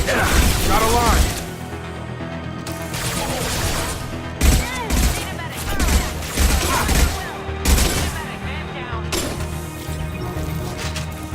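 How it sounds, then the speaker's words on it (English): Gunfire from the video game Mass Effect 2 crackles in repeated bursts and single shots amid impacts and battle effects, with game characters talking over the fighting. "Firing an impact shot."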